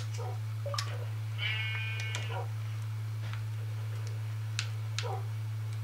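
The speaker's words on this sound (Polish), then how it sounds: "Tu jest owca." A Minecraft sheep bleats once in a wavering, quivering call, surrounded by soft scattered ticks and clicks over a constant low hum.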